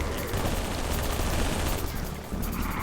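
Gunfire aimed at the player in Halo 3, a dense barrage of rapid shots and bursts layered over a constant loud rumble of game action, with a brief dip near the end.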